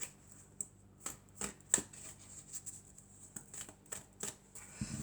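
Oracle cards are shuffled by hand in a quiet room, with soft repeated riffles and slides close by and no talk.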